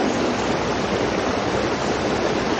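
Steady, full-band rush of turbulent river water in Singapore's Ang Mo Kio-Bishan Park, loud and continuous throughout with no pauses or voices.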